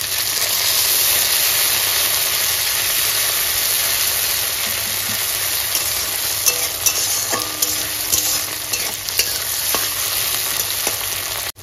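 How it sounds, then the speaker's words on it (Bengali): Tomato and onion fry together in oil in a pan, giving a loud, steady sizzle that runs throughout, with occasional stirring scrapes and no voice. "দিয়ে টমেটো এবং পেঁয়াজ একসাথে ভাজা ভাজা করে নেব"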